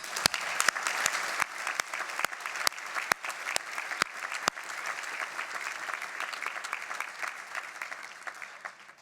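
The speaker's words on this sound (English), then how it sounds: "Let us give a round of applause to those who have supported us." Audience at a Victoria University graduation ceremony breaking into sustained applause, with a few sharp nearby claps standing out at first before settling into an even, dense roomful of clapping that carries on throughout.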